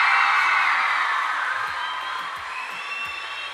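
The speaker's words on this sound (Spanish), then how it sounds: "un fuerte aplauso a Samu Robles" Crowd cheering and whooping with applause greeting Samu Robles at a panel event, loud at first then easing slightly but continuing steadily throughout.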